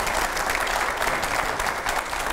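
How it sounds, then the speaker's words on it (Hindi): Loud, steady applause from an interview audience welcoming S. Jaishankar, a dense continuous wash of many hands clapping. "आइए, जोरदार तालियों से स्वागत करें जयशंकर सर का"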